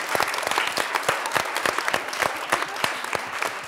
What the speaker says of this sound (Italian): Facciamo un applauso al prof di matematica.